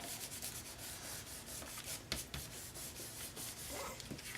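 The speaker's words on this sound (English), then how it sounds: "Just give it a rub, make sure the letters stick down really, really well." Paper letters being rubbed down firmly onto a card, a close, continuous dry scratching and rubbing with a few sharper strokes, alone without talk.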